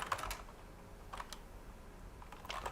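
Quick clusters of keystrokes tap on a computer keyboard, with short pauses between bursts, close by and fairly quiet in a still room.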